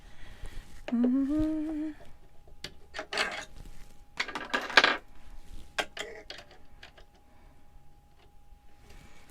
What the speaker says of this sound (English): oh, I need to put my zipper foot on again.